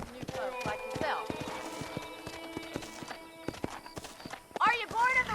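Clip-clop of horse hooves in Red Dead Redemption, a brisk steady trot with a short whinny near the end, heard under a voice talking.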